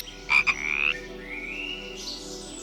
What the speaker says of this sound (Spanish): ranas anaranjadas se esconden sobre hojas de helecho